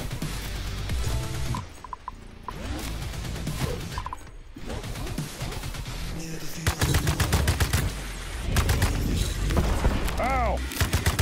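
Shotgun blasts in the video game Atomic Heart, loud repeated booms scattered across a busy combat mix with dense sound effects; a voice talks over parts of it.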